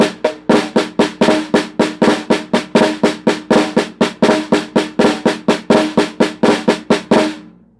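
Flam accent rudiment on a drum, played at a moderate-fast tempo: a steady stream of crisp, close strikes in repeating groups of three with double-attack flams, loud and alone with no speech.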